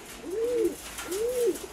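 A pigeon in a loft gives two soft, low coos in spring breeding season, each a rising-and-falling call under a second long, fairly close against a light background hiss.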